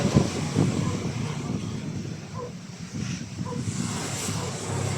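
Strong wind roars across the microphone with a broad rushing hiss, steady and loud throughout, with heavy rain mixed in during a storm.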